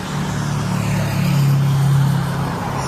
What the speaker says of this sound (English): they get a lot of road noise here. Because you can tell, watch, there's cars just all day long.